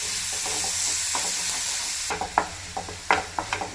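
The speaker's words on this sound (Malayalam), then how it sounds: "ഒരു ചെറിയ രണ്ട് ഒനിയനാണ് അത് ഫൈനായിട്ട് സോഫ്റ്റ് ചെയ്യുക" Two small, finely chopped onions soften in a pan, giving a constant light sizzle while a utensil stirs and scrapes against the pan in a few sharp, close clacks.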